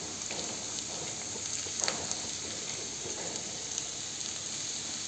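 Chopped onions frying in a pan give off a faint, even hiss with a few soft crackles, low and continuous with no talk.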